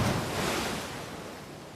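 Ocean surf washes onto the beach beside Santa Monica Pier in a steady broadband rush. A wave breaks near the start, then the sound eases into a continuous hiss with a light touch of wind.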